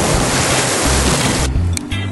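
Waves wash onto a beach at Hel, Poland in a loud, continuous roar of surf with heavy wind buffeting on the microphone, easing slightly near the end.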